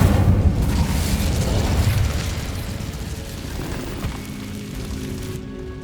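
Incendio fire spell cast in Hogwarts Legacy, a loud, rumbling, fiery burst that starts strong and slowly thins into a steady crackling roar over about six seconds, with no talking.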